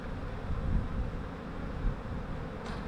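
Honey bees buzz around a nuc hive, a low, steady droning hum close to the microphone with slight wind rumble underneath and no talking.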